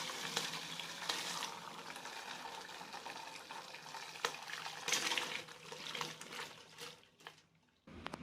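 Boiled lime peel liquid, softened and yellowed, poured and strained through a sieve, giving a steady watery splash and trickle with a few clinks, then a brief pause near the end.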